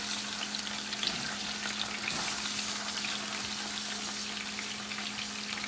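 Steady, close sizzling of star anise, cloves and ginger garlic paste frying in hot oil, a constant crackling hiss with light stirring and no talk.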